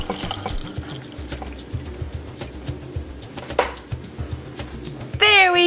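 Hot water is poured into a unicorn color-changing mug, a light liquid trickle and splash under a person talking, ending in a brighter rising gurgle as the mug fills.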